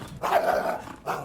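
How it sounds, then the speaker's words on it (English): A coyote gives a bark howl, a single rough bark stretching into a short howl, followed by a brief second burst, fairly close and clear with no talk. "So this clip here gives us a good vocalization of that. So that's like a bark howl"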